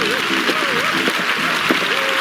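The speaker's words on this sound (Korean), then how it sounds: "자, 박수로 환영해주세요." A Sunday school congregation claps to welcome guest speaker Noah, steady group applause running throughout with a sung or spoken melodic voice layered over it.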